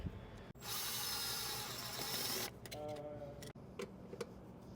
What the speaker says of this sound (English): We can tighten this back down with an 11 millimeter.